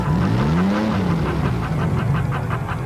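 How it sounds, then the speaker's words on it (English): An Oldsmobile Cutlass Calais with a Quad 4 engine drives by with a rising, swooping engine note that climbs in pitch then fades into a steady road rush, loud and close, without voices. "A Cutlass Calais with a remarkable Quad 4 engine."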